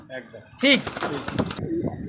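A large black-and-white male pigeon gives a brief, throaty coo near the start, close by, with someone talking around it.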